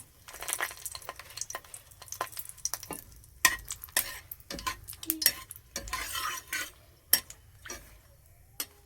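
Dried red chillies and bay leaf crackle in hot oil for tempering a chicken curry, a steady close sizzle broken by sharp utensil scrapes and clinks against the pan.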